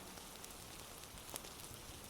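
Rain ambience for a Honkai Star Rail ASMR scene: a faint, steady patter of rain on a surface, with scattered individual drops and no voices.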